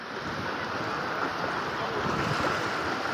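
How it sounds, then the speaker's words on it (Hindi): A boat off Gorai beach in Mumbai moves on the sea, giving a steady, loud wash of waves and rushing water with wind buffeting the microphone, without pause. "फाइनली गाइज ये है हमारी बोट"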